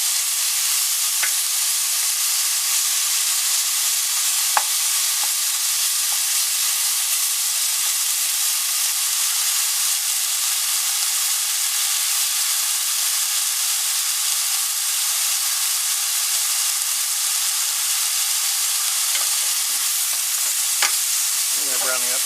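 Oyster mushrooms fry in a pan, browning at the edges, with a continuous even sizzle throughout and a few faint clicks of stirring now and then.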